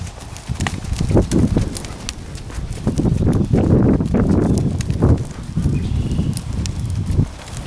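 Horse hooves clip-clopping in a steady rhythm at a posting trot during a riding lesson, fairly close and continuous over about eight seconds, with some faint voice and low rumble around them.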